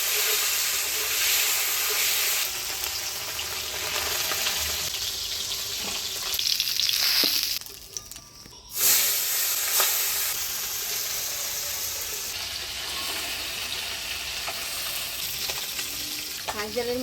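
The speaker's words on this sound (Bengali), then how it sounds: "এবার মাছটা ভাজা বসাই দিই।" River fish fries in a pan of hot oil with a loud, close, steady sizzle and hiss that runs throughout, briefly dipping midway before carrying on. No one speaks.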